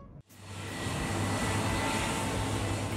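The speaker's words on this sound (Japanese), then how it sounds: "実際にエンジンを止めて駐機場に入ってくる動画を見てみましょう。" A loud, steady engine roar from an airliner taxiing into its parking stand on one engine, with a low hum underneath, rising after a brief gap and holding constant, nearby.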